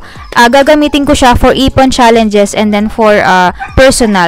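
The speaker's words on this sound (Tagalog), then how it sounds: "pasensya na sa ingay po ng aso" A dog barks repeatedly indoors at home, the sharp yips and barks mixed in under someone talking loudly and continuously close to the microphone.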